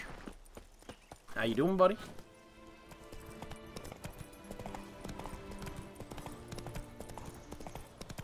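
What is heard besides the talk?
Roach the horse's hooves and whinny in The Witcher 3 video game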